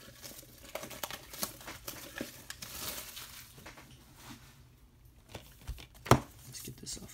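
Plastic wrap and packaging around a Blu-ray steelbook crinkle and tear in soft, uneven rustles, with a sharper snap near the end, fairly close and quiet.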